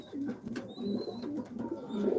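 Racer pigeons coo nearby in repeated low, burbling phrases, with a faint thin tone and light background noise around them.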